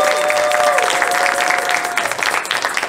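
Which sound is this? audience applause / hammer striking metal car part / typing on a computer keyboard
audience applause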